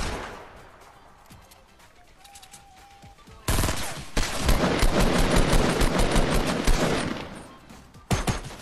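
Gunfire in a Fortnite match: a few scattered shots early on, then a loud sustained automatic burst of rapid shots for several seconds, followed by a final sharp blast.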